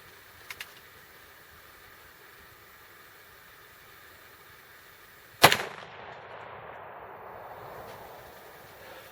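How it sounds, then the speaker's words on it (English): A single sharp gunshot cracks out at a cinder block target outdoors, followed by a lingering rumble of echo and a low steady hum; two faint ticks come earlier, and no one speaks. "Let's shoot that cinder block there"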